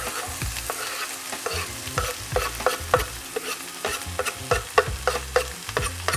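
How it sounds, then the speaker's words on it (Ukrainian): Oil sizzles steadily as onions fry for meatballs, with repeated stirring scrapes and clinks of a utensil against the pan, no voices. "Смажимо цибульку."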